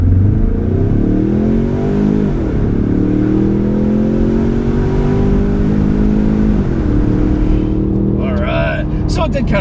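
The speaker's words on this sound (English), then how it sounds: "We'll give it some revs." A 2015 Ford Mustang EcoBoost turbo four with the windows down revs up in two climbing pulls toward about 6,000 RPM, the engine drone rising steadily and loud from inside the cabin.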